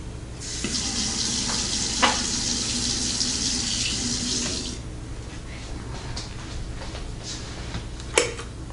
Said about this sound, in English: We're going to add a few drops of water, say like 4 or 5 drops of water into here.